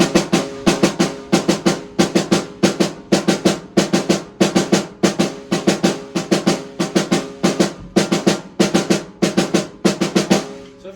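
A tight drum pattern repeats in fast, evenly spaced sixteenth-note groups of hits, a steady looping groove played loud and close.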